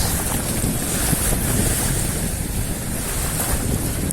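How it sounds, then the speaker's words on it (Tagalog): Steady, roaring wind buffets the microphone without letup, with a broad rushing noise and faint water movement beneath it. "Lakas ng hangin."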